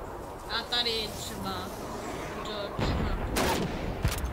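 Rifle shots at target dummies in a Call of Duty 2 training mission, a few sharp cracks with short gaps between them, heard over game voices and background ambience.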